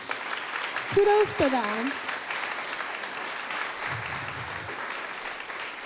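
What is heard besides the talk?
audience applause for service providers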